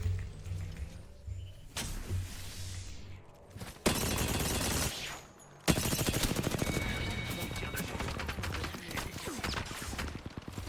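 Apex Legends gunfire during a firefight, with loud rapid bursts and sustained automatic fire in several sharp-onset blocks separated by short quieter gaps. Dense, close and harsh, with game effects layered in.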